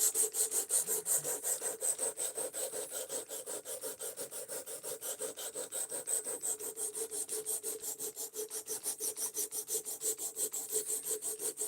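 Rhythmic back-and-forth scraping of a knife blade being sharpened on its secondary bevel, with quick, even strokes repeating steadily and closely throughout, without any voices.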